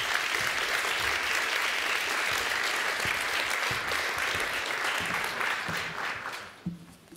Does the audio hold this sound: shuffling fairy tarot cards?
no